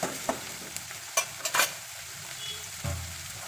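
Capsicum and tomato fry in a pan, a soft steady sizzle broken by a few sharp clinks and scrapes of a spoon stirring the vegetables, heard up close with no voices.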